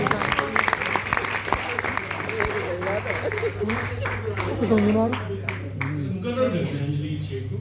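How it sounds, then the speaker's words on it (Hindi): Applause from the audience at a mushaira poetry gathering in Meerut, a steady wash of hand clapping for about eight seconds with voices and a mains hum running underneath. "एक बार जोरदार तालियां अंजलि मंगा की"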